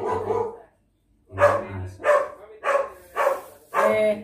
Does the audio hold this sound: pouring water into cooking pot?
no